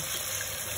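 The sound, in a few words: water poured into pan of marinated spare ribs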